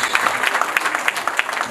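Guests at a wedding anniversary celebration in Houston, Texas, applaud in a dense, steady burst of many hands clapping at once, loud and close, with a crowd murmur underneath.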